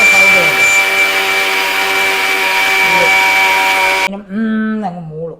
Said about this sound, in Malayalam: അങ്ങ് മൂളും മിക്സി.